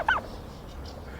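Farm turkeys give a short burst of gobbling right at the start, close and loud, then fade into a quieter background murmur with faint rustling.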